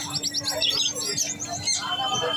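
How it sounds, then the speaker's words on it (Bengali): Uncommon caged birds chirping at a bird market, with quick bright chirps and short trills repeating close by over a low murmur of market noise. "এই পাখিগুলো এইগুলো আনকমন পাখি"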